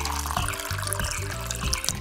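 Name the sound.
milk pouring into a baby bottle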